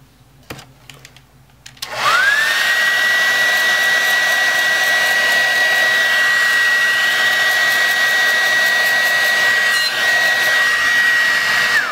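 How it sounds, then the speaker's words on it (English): A blow dryer heats Jamberry nail wraps to bond them to the nail. It switches on after a brief quiet start, then gives a steady, loud, continuous whirring blow that lasts to the end with no talking. "So I'm going to turn on the blow dryer one more time,"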